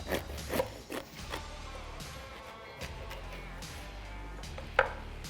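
A knife cutting through a tender braised chuck roast on a board, several soft irregular chopping thuds and scrapes with a sharper knock near the end, close and fairly quiet.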